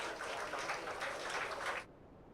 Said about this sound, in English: We can give them a round of applause for their participation in today's workshop.